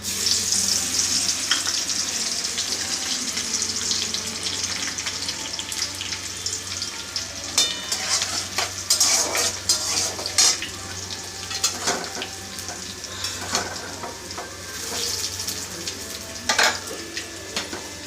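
Cloves, cinnamon and chopped garlic hiss and sizzle steadily in a hot pan for a chicken dish, with scattered scraping and stirring clatter close by.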